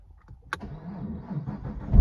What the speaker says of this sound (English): I've never done a cold start on this car ever.